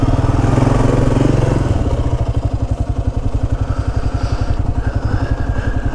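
A Kawasaki KLR-650 motorcycle on the move, its single-cylinder engine thumping in a loud, rapid, even pulse close by, steady throughout with a slight change in pitch partway through.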